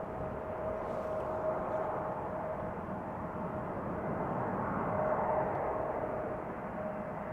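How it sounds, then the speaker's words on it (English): Icelandair Airbus A321neo from Reykjavik touching down at Schiphol, a faint, steady distant jet rumble with a thin whining tone running through it, low and even throughout. "flight 460 A321neo, the PLOW Airbus, touching down after 2 hours and 29 minutes"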